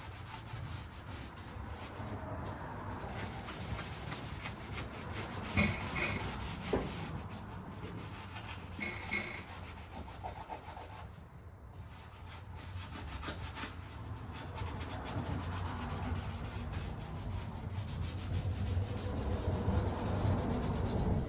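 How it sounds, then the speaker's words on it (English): Hand sanding the body panels of a Foxbody car in a paint booth, a continuous rough, scratchy rubbing with steady back-and-forth strokes, close and fairly loud, with no voices. "So now I can see what really needs to be sanded."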